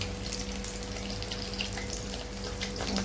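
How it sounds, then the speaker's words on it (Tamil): Vada fritters fry in a pan of hot oil, a steady dense crackle and hiss that stays even throughout, close but fairly quiet, with no voices over it. "எண்ணெயில் கைக்கே விட்டுறாதீங்க. கொஞ்சம் டிஸ்டன்ஸ் பண்ணியே வடையை போடுவோம்."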